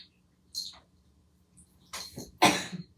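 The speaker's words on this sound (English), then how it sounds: "Still got a cough." A couple of short, sharp coughs, close by, separated by a brief pause; faint background hum, no talking.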